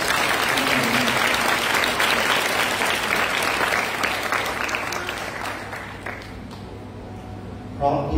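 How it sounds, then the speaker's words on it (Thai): A crowd of youths at a Khon Kaen gathering claps warmly for their older siblings, dense loud applause that gradually thins and fades out toward the end, with a brief voice or noise near the close. "ปรบมือให้พี่ๆของเราด้วยกัน"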